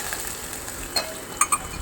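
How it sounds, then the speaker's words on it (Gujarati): Gujarati tempering of oil with cumin seeds, bay leaf and chillies sizzling in a pan, a soft steady crackle with a few sharper pops near the end, with no talk. "આપણે આ વઘાર મૂકી દીધો છે એમાં તેલ મૂક્યું છે જીરું નાખ્યું તમાલપત્ર મરચાં"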